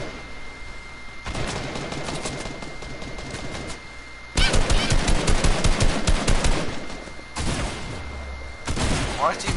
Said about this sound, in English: All I hear is SMG.